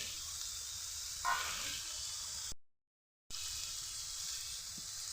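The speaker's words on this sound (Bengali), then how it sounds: "এই দেখুন, পরিমাণ মতো এবার আমরা জল দিয়ে দিচ্ছি।" Water poured into cabbage curry frying in a pan gives a brief hissing sizzle that rises and then settles into a soft steady fizz.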